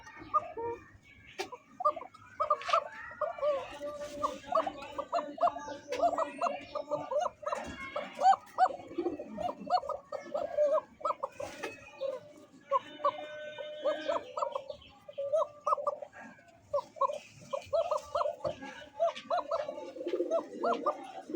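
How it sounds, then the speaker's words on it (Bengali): A pair of Arabian cocker pigeons, male and female, coo repeatedly in throaty rolling phrases close by, with other birds and a dog audible in the background. "দেখতে পাচ্ছেন স্ক্রিনে দেখার মতো অ্যারোবিয়ান ককার একটা জোড়া, ডানে মাদি বামে নর, সুন্দর ডাকে"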